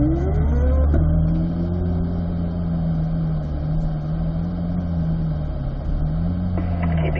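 Race car on a timed autocross-style run, engine droning steadily and loud throughout, pitch rising and falling as the driver squeezes the throttle out of corners, with no talk over it.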